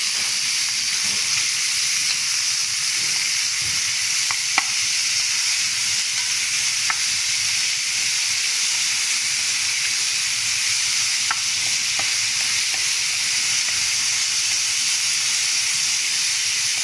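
Chicken gizzards fry in a pan with a steady, even sizzle and hiss that holds at constant loudness throughout, broken only by a few faint ticks and pops.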